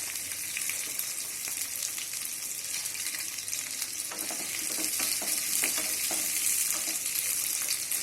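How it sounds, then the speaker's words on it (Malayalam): Small shallots sautéing in oil in a pan for a Kerala beef fry, with a steady, fairly loud sizzle and bursts of spoon stirring and scraping, and no talking. "ചെറിയ ഉള്ളിയാണ്. ഇതൊന്ന് വഴറ്റി കഴിഞ്ഞിട്ട് നമുക്ക് വറ്റൽ മുളക് ഇട്ട് കൊടുക്കാം."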